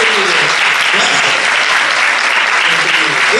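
Sustained applause from an audience at a book and reading week event in Coronel Dorrego, dense steady clapping throughout with some voices mixed in.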